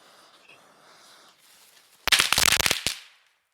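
A quiet room, then a rapid burst of sharp bangs from medium-size El Toro firecrackers popping off in quick succession for about a second before fading out.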